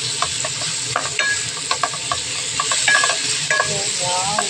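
Chicken and soy sauce being stirred in a hot pan, a steady close sizzle with a utensil scraping and clicking against the metal in irregular strokes.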